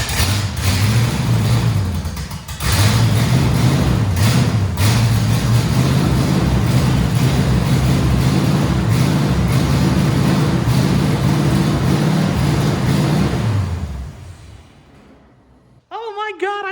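Custom International rat rod truck engine running on starting fluid, a loud steady roar with a wavering drone that cuts out briefly and then ends, followed by a short voice.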